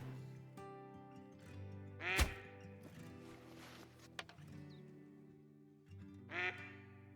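Two separate duck quacks, one loud sharp call and a softer one several seconds later, ring out over a steady drone of game music and ambience in the hunting game Call of the Wild.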